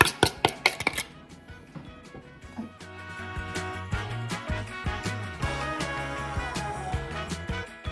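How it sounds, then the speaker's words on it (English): Apple pieces tumble out into an oven-proof dish and get spread around, giving a quick run of sharp, close clattering thuds over the first two seconds before settling into a steadier tonal backdrop. "I'm just going to dump them into the bottom of a oven-proof dish and spread them out."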